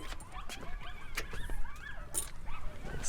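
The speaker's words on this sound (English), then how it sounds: "Man, those are coyotes out there." Coyotes yip and howl outdoors in a pack chorus, with rising and falling wavering calls layered over a steady background hiss, moderately distant and continuous.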